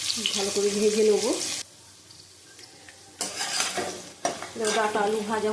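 Potatoes and vegetable stalks sizzle in a pan as they are stirred, in two loud bursts split by a short quiet gap, with some tonal, voice-like sounds over the first burst.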